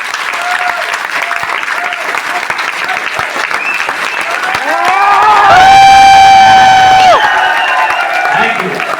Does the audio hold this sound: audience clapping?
yes